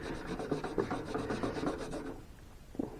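Simichrome polish worked by hand over a vintage tin Bowes Seal Fast tire repair cabinet to lift grime, a close rhythmic back-and-forth rubbing that stops briefly, then one more short stroke.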